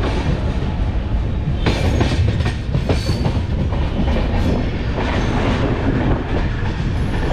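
A long passenger train rolls into Madgaon railway station in Goa, a steady loud rumble of wheels and coaches with rattling clatter and brief brighter screeches, continuous and close with no talk.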